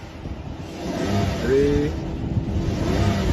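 A V12 Rolls-Royce Wraith engine revs in a steady, deep rumble that swells slightly, close by, while a voice counts over it.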